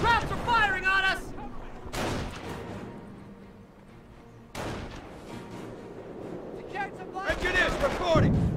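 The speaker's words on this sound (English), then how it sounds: "Krauts are firing on us!" Gunfire in the World War II strategy game Company of Heroes, skirmish on the Sturzdorf map: several loud, sharp shots and booms separated by quieter stretches, with voiced unit callouts and shouting between blasts.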